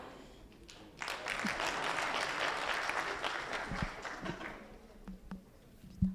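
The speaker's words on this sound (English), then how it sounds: "So an applause for the chair." A room bursts into applause after a quiet moment, clapping steadily for a few seconds before thinning into scattered claps.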